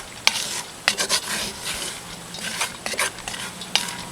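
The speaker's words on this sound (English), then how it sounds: "Give our peanuts a little stir." Peanuts roasting in a pot at an outdoor steam engine festival are stirred, giving repeated scraping and rattling strokes against the pot over a low background hiss, fairly close and moderately loud.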